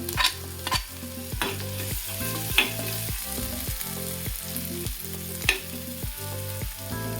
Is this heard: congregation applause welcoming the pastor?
no